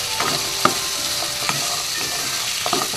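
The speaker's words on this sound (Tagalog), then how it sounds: "Magkaroon lang ng lasa-lasa habang ginigisa natin ang ating pork." Pork sautéing in a pan for a vegetable dish, with a steady sizzle and scattered scraping stirs of a utensil, loud and close, with no speech.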